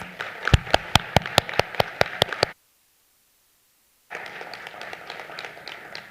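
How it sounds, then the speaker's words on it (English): Crisp, rhythmic clapping rings out, then a short silence, followed by a wider wash of applause from a room of people at a Tri Alpha honor society induction ceremony. "Can the rest of the folks in this room give those students a huge round of applause?"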